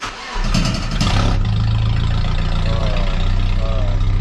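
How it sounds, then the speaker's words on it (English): Nissan Hardbody mini truck engine cranking and catching, then settling into a loud, steady close-up idle with a buzzy rattle from a loose exhaust running throughout. "Don't worry about that little rattling sound. That's just the exhaust."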